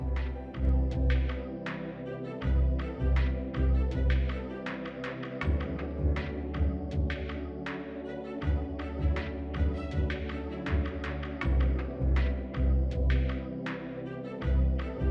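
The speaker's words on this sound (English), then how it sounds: "I close both sides this way and finish the edge with a zigzag stitch." A sewing machine runs a zigzag stitch along doll shirt fabric, close and steady, its needle ticking rapidly in bursts with short pauses between runs.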